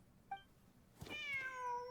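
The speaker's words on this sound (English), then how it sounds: "heard the sound of a cat while escaping the ruin" A cat in a video game ruin gives a single faint short chirp, then a clear drawn-out meow that slides downward, heard alone against quiet background hiss.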